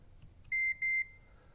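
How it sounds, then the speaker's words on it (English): A newly installed Garmin Striker Vivid fish finder gives two short, high electronic beeps in quick succession, clear against a quiet background. "Oh, it beeps."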